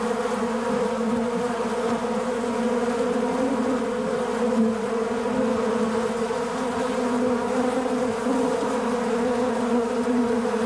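Dense, steady drone of many honeybees buzzing inside a hive, a continuous close hum that stays level throughout with no voices.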